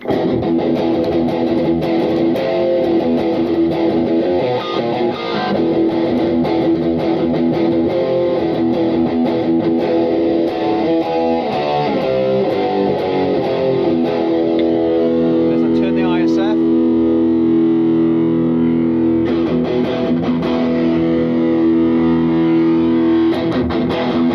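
An electric guitar plays through a Blackstar HT5 amp set to high gain with the mids scooped, giving loud, thick distorted chords and sustained notes that ring steadily for the whole stretch.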